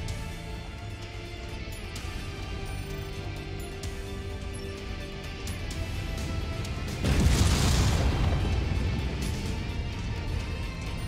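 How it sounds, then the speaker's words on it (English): A missile explosion in MechWarrior 5: Mercenaries, a single deep boom with a crackling burst midway through, rising out of a steady mechanical background hum and then rumbling away. "Incoming missile."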